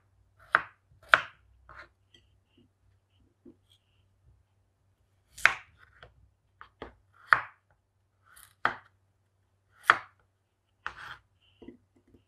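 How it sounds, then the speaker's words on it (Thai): Peeled potatoes are cut into pieces with a kitchen knife, giving a dozen or so crisp board strikes in loose, uneven clusters with short pauses between them, close and clear with no talking. "เราก็มาหั่นมันฝรั่งกันค่ะ"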